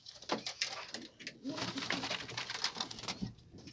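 Pigeons coo softly in a coop full of males, with several overlapping throaty calls and a little flutter and patter nearby, faint and continuous.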